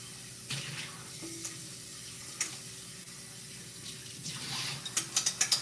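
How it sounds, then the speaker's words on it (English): Water runs while a bowl is rinsed out in a home kitchen, faint and steady, with a few clinks and knocks and a quicker rattle of handling near the end. "Just going to rinse out the bowl."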